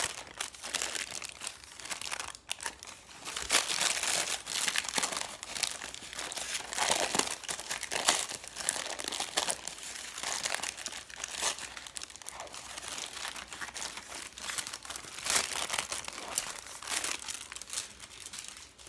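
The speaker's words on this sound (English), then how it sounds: "begin to peel off the waxed paper" Waxed paper is peeled and crinkled off a block of homemade rainbow soap, with continuous close crackling and tearing rustles throughout.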